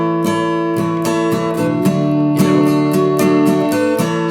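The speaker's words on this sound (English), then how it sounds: "that's the sound of a standard tuning guitar that's being capoed" Bright, high-pitched strummed chords from a capoed standard-tuning guitar ringing steadily with regular rhythmic strums, close and clear, no talking over them.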